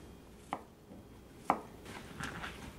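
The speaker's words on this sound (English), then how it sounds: "chop the squash" Squash being chopped with a knife on a cutting board while making vegan tamales: two sharp, isolated chops about a second apart, followed by softer scraping, close and with no talk.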